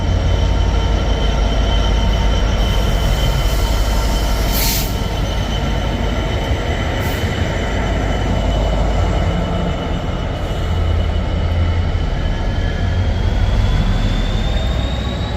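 A train passes through Birmingham New Street station on the West Coast Main Line, a loud, continuous roar of wheels and engine with a faint high squeal, steady for the whole stretch.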